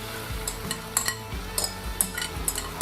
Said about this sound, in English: put the pan on the maximum. So we're going to concentrate all these beautiful juices a little bit